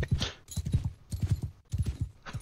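Horse in the Mount & Blade II: Bannerlord game trotting with a steady clip-clop of hooves in four quick bursts, close and fairly loud, with no talk over it.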